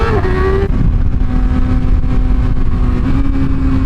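Motorcycle engine with a six-cylinder exhaust accelerating on a highway, a steady loud drone with rising tonal pitch as it pulls, continuous throughout with wind roar.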